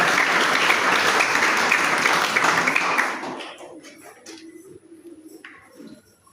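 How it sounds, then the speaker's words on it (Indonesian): A church congregation applauds together, a loud dense burst of clapping for about three seconds that quickly thins out to a few scattered claps and faint room noise. "Beri tepuk tangan bagi Tuhan kita."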